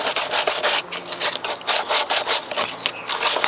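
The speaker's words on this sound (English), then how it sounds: "So we got the sandpaper. All you gotta do is just rough it up." Sandpaper scrubbing bare metal on a car alternator, steady back-and-forth rubbing strokes close up with a bright rasping texture, repeating rhythmically throughout with no talking.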